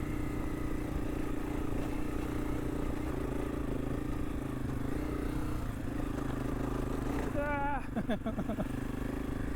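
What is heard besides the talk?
motorcycle engine working on a trail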